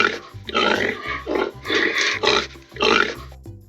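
A farm pig grunts in a run of low, rough snorts, three or four close bursts in quick succession with short gaps between them, loud and near with no other sounds.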